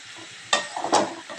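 Spinach seasoned with salt and turmeric is stir-fried in a pan, giving a soft background sizzle broken by two louder scraping stirs of the spatula, close and with no talking.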